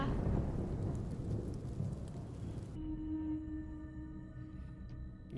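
A video game thunderstorm with lightning: rain hisses steadily and a rumbling thunder crash fills the first half, then cuts off abruptly to faint tonal hums.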